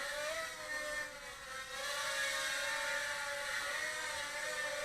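Small Cheerson Flying Egg (SH 6057) quadcopter drone with touchy throttle, its motors whirring in a steady high-pitched drone whose pitch wavers and dips as the throttle changes, continuous and fairly close with no talking.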